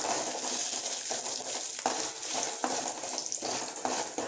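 Dried turkey berries frying in hot oil, a dense close crackle and sizzle broken by sharp clinks of a spoon against the pan, with no talking.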